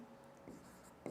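Brief, faint scratching of a pen or marker writing an equation on a board in a Class 10 maths lesson, quiet and close with a couple of light strokes and no talking.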